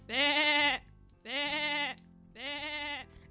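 Three long, loud bleats from a sheep, close and evenly spaced with short pauses between, each a steady nasal cry.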